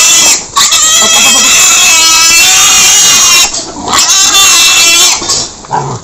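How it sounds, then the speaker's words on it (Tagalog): Piglets squeal loudly and continuously at close range while being caught on a pig farm, with shrill overlapping cries and a few brief pauses. "Na-stress yung mga baboy."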